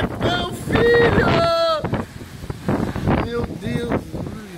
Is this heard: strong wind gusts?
yes